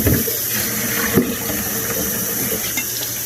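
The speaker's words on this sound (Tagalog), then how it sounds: "Ito na hugasan." Running tap water for washing, a loud close-up steady splash and gush into a sink with a few clattering knocks, no talk over it.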